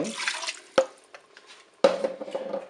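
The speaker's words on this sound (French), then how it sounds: "Je vais ajouter mon bouillon." Broth is poured into a Cookeo multicooker pot in two short splashing bursts, with faint drips and quiet gaps in between.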